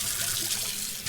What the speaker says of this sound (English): Listen to the rinse sound effect.